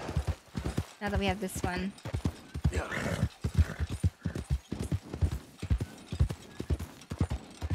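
In Red Dead Redemption 2, a horse's hooves clip-clop in a steady walking rhythm, close and clear, with a whinny early on, while a person talks over the game sounds.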